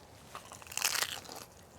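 A bite into a crispy fried taco dorado shell gives a close, loud crunch with a quick burst of brittle cracking, standing alone with no talk.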